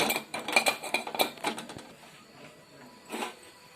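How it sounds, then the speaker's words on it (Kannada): Metal cooking pot clanking and being set down on a kitchen surface, a cluster of bright clinks early on, then fainter scrapes and one later knock. "ಪಾತ್ರೆ ಇಟ್ಕೊಂಡಿದ್ದೀನಿ ರೀ."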